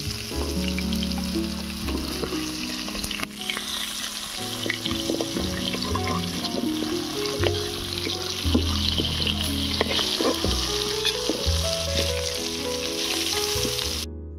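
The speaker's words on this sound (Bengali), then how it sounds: "মাছ ভাজা হয়ে গিয়েছে, এবারে তুলে নেব।" Fish sizzling and frying in hot oil in a kadai, a steady loud crackle throughout with occasional clinks and stirring as the pieces are lifted out, no talking.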